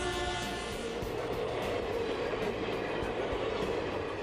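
A train rolls past on a railway track with a continuous rumble and rhythmic wheel clatter, steady and moderately loud throughout without speech.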